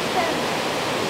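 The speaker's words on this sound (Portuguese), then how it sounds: "Bem no pé dessa cachoeira incrível" A waterfall about 70 metres high in Japan roars as a dense, steady rush of broadband noise, heard close and loud from near its base.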